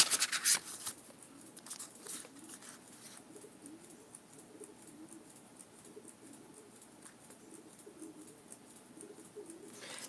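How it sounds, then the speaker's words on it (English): Mourning doves or rock pigeons coo softly in a low, rhythmic pattern that repeats throughout, fairly distant. A few sharp rustles and clatters come close by at the start. "They're doves. I like doves. Morning doves, rock pigeons, whatever you want to call."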